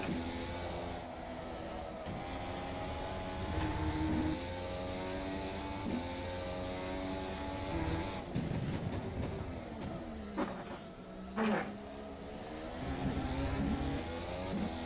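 A 2018 FSR season F1 development car in the racing sim rFactor 2 screams through high revs, its engine pitch sweeping up and dropping sharply with quick gear changes and throttle lifts, loud and close with no talk.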